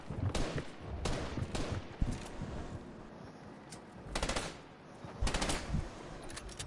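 AK rifle fire in a multiplayer video game, heard as several sharp automatic bursts spaced a few seconds apart over a steady background din, loud and close.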